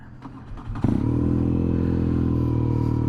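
A 2022 BMW R nineT Scrambler motorcycle engine cranks with a few clattering turns, then catches and settles into a loud, steady, rumbling idle close by.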